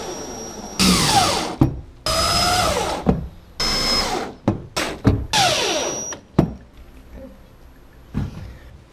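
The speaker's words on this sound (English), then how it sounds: "now I just got to put some screws in there" A cordless drill drives screws into a plastic kayak pontoon mount in repeated whining bursts of about a second each, motor pitch rising and falling, with short pauses and clicks between runs.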